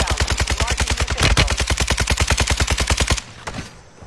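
Rapid automatic gunfire in the Warzone video game rattles off in a fast, even burst of about three seconds, then cuts to quieter background noise.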